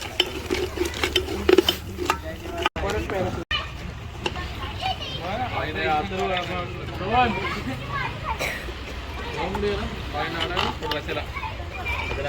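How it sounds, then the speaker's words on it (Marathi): Dry chicken cooking in a pot on a wood-fired stove at a village party, with clinking and scraping of a stirring utensil against the pot under steady chatter and children's voices throughout. "सुका चिकन चालू आहे बघा"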